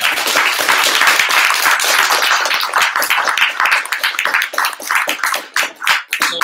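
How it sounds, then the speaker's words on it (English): A large audience gives a warm round of applause at the close of a business branding talk, dense steady clapping that thins out toward the end into scattered individual claps. "Everybody, a warm round of applause for Sammy"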